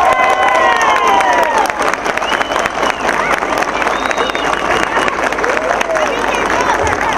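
A loud crowd at a National Party family celebration in Artigas applauds and cheers for a candidate, with clapping, shouts and whistles mixed together and a voice rising over the noise.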